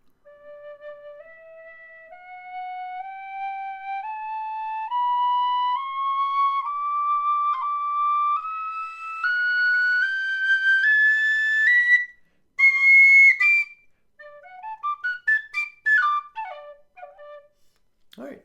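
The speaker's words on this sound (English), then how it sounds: "Shush Pro is designed to be a quieter whistle." A quiet Shush Pro high D tin whistle climbs a slow scale note by note, soft and clear, then plays a few quick ornamented notes before stopping.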